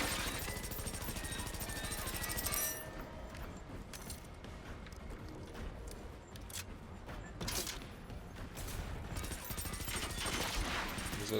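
Dense, continuous gunfire and explosive impacts from a machine's rocket barrage in the video game Generation Zero, a loud sustained clatter with sharp bursts and crashes throughout, with no gaps.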